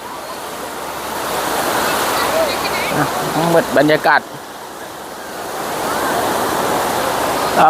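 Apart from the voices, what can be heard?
sea waves on the beach at Sattahip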